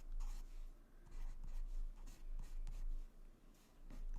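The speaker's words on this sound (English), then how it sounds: "you can go over as many times as you want to create the lightness or the opaqueness of the pencil." Colored pencil shading on paper in a greyscale coloring demonstration, close, soft scratchy strokes repeating in a steady back-and-forth rhythm with brief pauses between passes, no talking.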